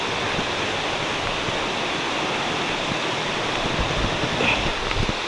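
Shower Falls at Bongcao, Curry, Pili, Camarines Sur roars as a loud, steady, unbroken rush of falling water from close range, with no voices over it.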